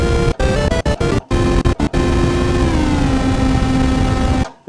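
Korg MS-20 synthesizer patch with loud pink noise layered over two steady oscillator tones, a dense continuous hiss with sustained pitches, broken by a few brief cutouts before stopping abruptly.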